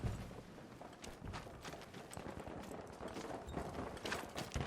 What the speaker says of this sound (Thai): เสียงฝีเท้าบนบนหัวผมอะ